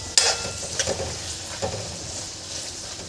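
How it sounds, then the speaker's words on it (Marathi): Ash gourd peel vegetable cooking in a pan, a soft sizzle broken by a few sharp clinks and scrapes as a spoon stirs it, close and fairly quiet. "ही मी भाजी अशी अधेमध्ये परतवत पूर्णपणे भाजी शिजवून घेते।"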